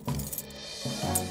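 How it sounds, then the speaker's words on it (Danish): Metal keys clink and jangle in two brief bursts as a magnet is lowered onto them in a drain, in a Fireman Sam cartoon. "Nu er det eneste, jeg skal gøre, at sænke magneten ned over nøglerne."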